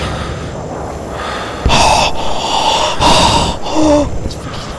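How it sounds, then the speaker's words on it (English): In a horror video game, a character breathes loudly and heavily, with ragged gasping inhales and exhales rising in bursts over a constant background hiss. "Stop breathing so loud!"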